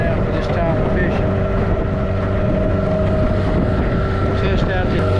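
A Nissan Tohatsu 8 HP outboard motor runs steadily on a small fishing boat during a spring test, a loud continuous engine drone mixed with strong wind noise on the microphone.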